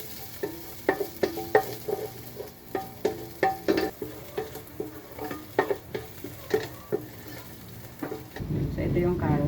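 Carrots and pre-fried potatoes for pork caldereta are stirred in a pan: a steady run of utensil scrapes and clacks over a low sizzle, with the frying hiss swelling louder near the end.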